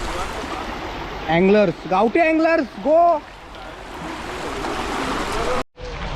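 A group of people wading across a shallow river, water splashing steadily around their legs, with a voice shouting and calling out over the rushing water near the start.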